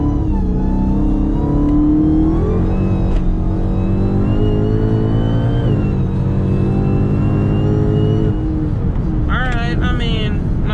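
A tuned Dodge SRT Hellcat at full throttle on a wet road at night, its engine roaring loud and steady with rising pitch through the run, briefly shifting tone near the end.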